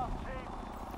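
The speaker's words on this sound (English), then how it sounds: "Watch the helicopter." A helicopter in the video game The Division 2 gives a low, steady rotor rumble that runs through a brief moment, with a voice talking over it.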